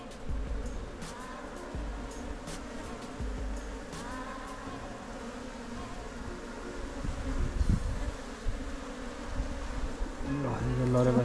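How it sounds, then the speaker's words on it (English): A dense, steady buzzing of many honey bees close by in a hive, with occasional soft bumps and rustles, and a short burst of handling noise near the end. "A lot of bees in this one."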